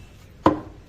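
A single heavy chop of a cleaver through meat at a market butcher's stall, one sharp close thud that rings briefly and then fades, standing alone with no voices.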